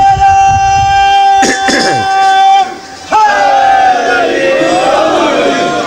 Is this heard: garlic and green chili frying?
no